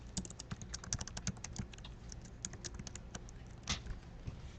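Rapid clicking of keys on a computer keyboard while a password is typed, a steady patter of close, crisp keystrokes with no talk.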